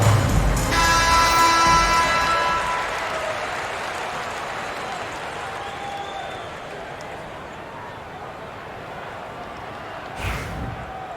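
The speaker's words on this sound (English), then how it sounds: "Here comes your Indiana Pacers crowd. Give it up for him." Home crowd cheering and applauding for the Indiana Pacers in an NBA 2K25 arena, loud at first and then settling into a steady background roar beneath game commentary.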